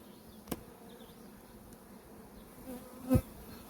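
Soft, steady buzzing of many honeybees at the hive fills the background, with a couple of faint knocks and one louder bump near the end.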